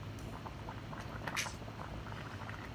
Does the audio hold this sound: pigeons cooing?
no